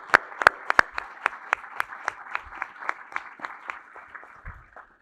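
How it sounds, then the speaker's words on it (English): Audience applause at a talk event on AI, society and culture, starting as strong close claps that thin out and fade over five seconds. "I just wanted to give Pat and Jen a round of applause too for everything they do"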